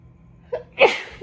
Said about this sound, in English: Ooh, I feel like I'm gonna sneeze.